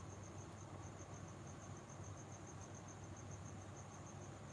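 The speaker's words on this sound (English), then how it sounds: "can you hear the crickets?" Crickets chirp steadily outdoors at night, a faint, continuous high pulsing trill with no voices.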